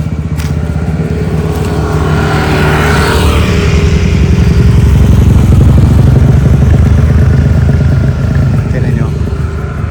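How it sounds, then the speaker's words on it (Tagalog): Motorcycles labour up a long steep uphill road near Bitbit River in Norzagaray, Bulacan, their engines droning loud and close with rising revs and some clatter for the whole stretch. "maingay ang takbo ng mga motor dito kasi puro paahon"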